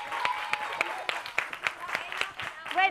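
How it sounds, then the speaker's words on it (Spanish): A small group claps in a loose, scattered rhythm during a children's game, fairly quiet, with voices chattering through the claps. "Un aplauso."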